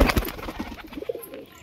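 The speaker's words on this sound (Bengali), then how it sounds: "তো দেখুন কতগুলো পায়রা।" Several pigeons coo softly in a backyard flock. A louder rustle opens, followed by faint, scattered low coos close at hand, with no talking.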